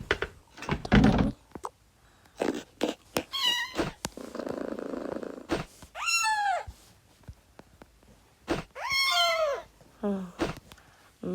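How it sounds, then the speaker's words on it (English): A house cat yowls and meows in several drawn-out, rising and falling cries, with purring and knocking thuds between them, all close and fairly loud. "My cat's going crazy."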